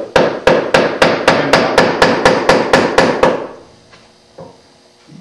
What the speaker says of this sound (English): Now I'm going to lay the chisel in this line that I scribed.